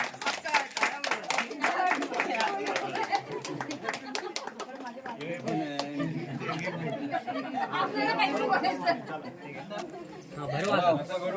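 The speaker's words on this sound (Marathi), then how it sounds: "टाळ्या वाजवा" Guests at an engagement ceremony clapping in a quick run of sharp, close handclaps at the start, then lively chatter and talking among relatives that carries on over scattered claps.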